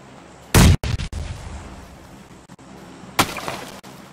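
A grenade explodes in the battle royale shooter PUBG Lite: a loud, close, broadband blast followed by a few sharp reports, then a second strong burst about two and a half seconds later, with no talk.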